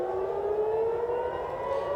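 A civil defense siren in Israel wails continuously during Iranian missile attacks, its steady tone slowly rising in pitch, loud with no talking.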